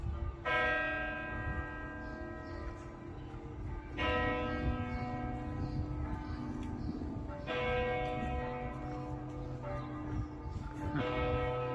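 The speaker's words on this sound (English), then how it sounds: "It is noon in Bamberg and all the various church bells are" Several church bells in Bamberg, Germany, ring together at noon in overlapping peals, a rich wash of ringing tones that swells in repeated waves without any voices.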